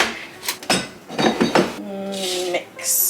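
Brownie batter with flour and toasted pecans is mixed in a bowl, a utensil scraping and clinking against the sides in several short bursts, close and fairly loud, with a brief tonal ring near the end.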